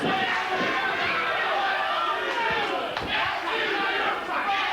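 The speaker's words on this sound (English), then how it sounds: "the crowd definitely disagreeing with Byron just a tad" Wrestling crowd at an ACW indoor show in Cecil, a dense, steady roar of many voices booing and shouting in disagreement with Byron, with scattered thumps and slams underneath.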